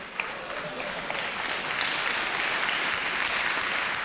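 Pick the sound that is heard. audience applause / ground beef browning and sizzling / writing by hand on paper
audience applause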